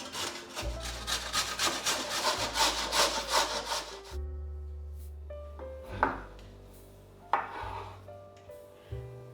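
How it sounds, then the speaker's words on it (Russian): A large carrot is rubbed hard against a coarse grater in quick, rhythmic rasping strokes for several seconds, up close and loud, followed by quieter scraping and a few light knocks. "я беру одну морковь размером больше среднего и натираю"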